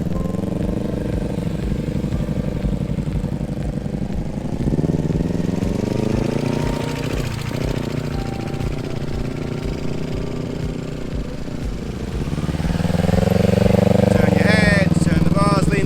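Motorcycle engine running at low speed during slow parking-lot turns, a steady mid-pitched drone that swells slightly near the end, with a man giving riding instructions over it.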